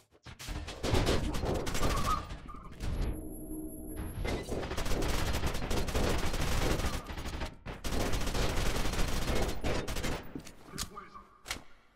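Bursts of rapid gunfire in the shooter game F.E.A.R. 2: Project Origin, loud automatic volleys with brief pauses, a short silent gap partway through and fading at the end.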